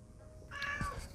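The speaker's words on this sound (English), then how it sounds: "There's that cat" A single cat meows once, close by, a short rising call heard alone over a quiet room.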